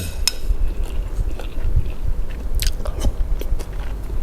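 Close, crisp bites and crunchy chewing on boiled rice-field crab served with a Thai pounded bean salad, several sharp cracks scattered over a low, steady room rumble with no talking.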